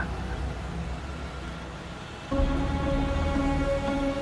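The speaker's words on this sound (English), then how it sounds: "The rain just happened out of nowhere." Steady rain hisses throughout in the video game Wuthering Waves, with a low rumble and a brighter tonal layer joining partway through, and no voices.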